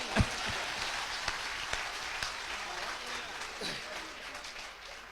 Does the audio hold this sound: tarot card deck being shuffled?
no